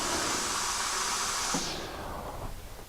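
A steamer blasts steam onto a varnished bed frame during bed bug treatment, making a steady loud hiss that cuts off after about a second and a half, leaving a soft low rumble.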